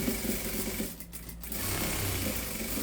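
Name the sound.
sewing machine stitching a cloth doll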